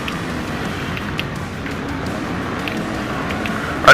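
A Honda motorbike's engine drones steadily in Monster Energy Supercross gameplay, a continuous rumble that ends in a brief louder burst.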